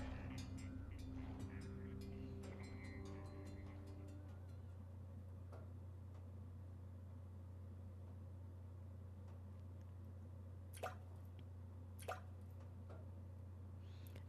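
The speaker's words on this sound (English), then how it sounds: "The sound of falling drops." Water drops fall and drip at night, a few sharp, sparse plinks ringing out over a steady low hum.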